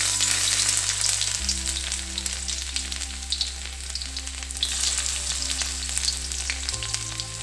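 Chopped ginger and garlic fry in oil for a Tulu-style jackfruit Manchurian, a steady close sizzle with faint stirring throughout and no voices.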